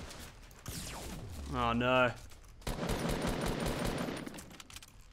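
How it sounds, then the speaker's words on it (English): Fortnite gunfire crackles in quick bursts of rapid shots, moderately loud and mixed with game sounds, while someone speaks briefly in between. "I know someone out over this way started shooting me"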